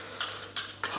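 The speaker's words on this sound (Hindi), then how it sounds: "तो अब हम ग्लासेस में आइस क्यूब डालते हैं।" Ice cubes drop into drinking glasses for a grape juice summer drink, landing in three separate bright clinks spaced about a third of a second apart, close and fairly quiet.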